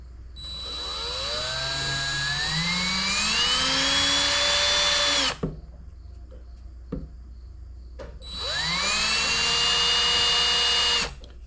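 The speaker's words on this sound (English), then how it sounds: "I put marks where I'm going to drill the holes. We have a drill." Power drill boring holes into a carved wooden snowman, two long whining bursts with the motor pitch rising as it spins up, separated by a short quiet pause with faint clicks.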